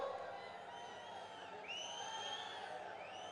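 Crowd at a chief minister's political rally in Holenarasipura, with cheering and shouted voices forming a steady, loud wash of noise throughout, a few whoops rising above it.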